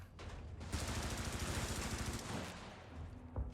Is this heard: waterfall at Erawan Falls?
no